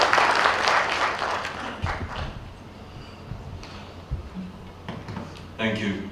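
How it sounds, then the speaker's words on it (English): Audience applause at a high-level stakeholder engagement forum in Kitui, a broad burst of clapping that fades, followed by scattered claps, footsteps and faint murmuring in a large hall. "Another round of applause, please, for the PS."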